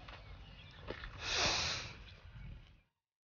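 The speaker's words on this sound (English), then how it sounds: "then you breathe in" A single slow inhale through the nose during a stretching exercise, a soft rising sniff-like breath swelling over a second and fading, close and fairly faint.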